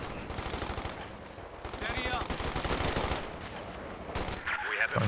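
MG42 machine gun fire in Company of Heroes 2, rapid sustained bursts rattling in a fast steady rhythm with battlefield noise, a voice talking over part of it.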